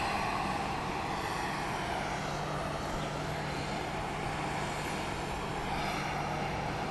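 A Southwest Boeing 737-800 departing Dallas Love Field at dusk gives a continuous, fairly distant jet roar with a low steady hum beneath it, even in level throughout.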